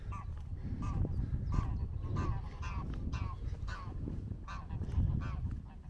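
Ducks and geese squabble and honk beside canal locks near a viaduct, a dense, continuous chorus of loud overlapping honks and quacks with no pauses.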